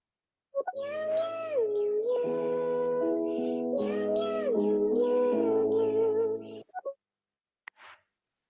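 A recorded cat song plays: a long, melodic, sustained meowing phrase with sliding pitch and a backing of steady tones, ending in a few short yowls and a brief noisy burst.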